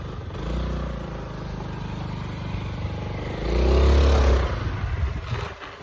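Motorcycle engine running and pulling away at a rural home gate in Tenkasi, steady drone swelling louder into a close rev around the midpoint, then easing off, with no talk over it.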